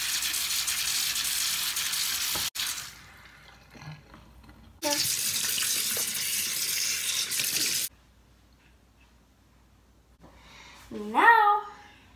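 A bathroom tap runs into a sink during face washing, gushing steadily in two long bursts separated by a pause with quieter handling and splashing, then a brief voice near the end.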